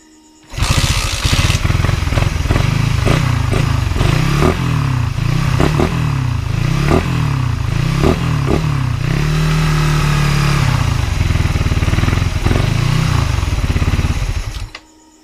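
A 2018 Suzuki Raider 150 fuel-injected motorcycle with a no-idle fault, started after a coil replacement: loud close engine revving in repeated bursts with rhythmic pulsing, then a steadier run that holds briefly before cutting off.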